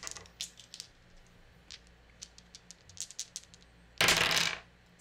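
Dice rolled during a tabletop game of Honor of the Samurai: a run of small scattered clicks and rattles, then a loud burst of dice tumbling and clattering across a hard surface, close and without talk.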